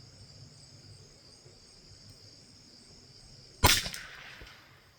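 A single sharp crack from a .22 LR rifle, a Rossi RB22 or Rock Island M14Y, fired once at a target outdoors, cutting through a steady background of chirping insects.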